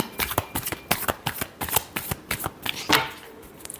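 Tarot cards shuffled by hand during a reading, a close, rapid flurry of papery riffles and slaps that runs without a break and builds into a final swish, with no voice.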